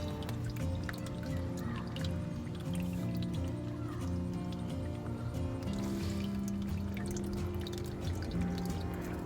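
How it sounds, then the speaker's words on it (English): Engine oil draining from the oil pan of a BMW 328xi (E90) with the drain bolt removed, a steady close liquid trickle and dribble that continues without a break. "Take this bolt all the way out and watch it drain."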